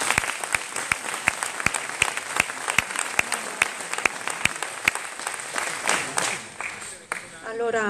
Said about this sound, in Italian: Un grande applauso a Sara Brandini.